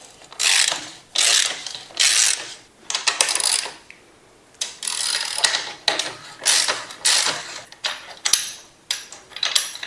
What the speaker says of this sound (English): 19mm socket on the back axle.